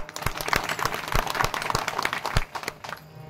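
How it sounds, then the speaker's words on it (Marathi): A village crowd claps for young warkari performers, with uneven hand claps and bursts of applause that rise and fall and then taper off near the end. "त्यांच्यासाठी जोरात टाळ्या वाजवा"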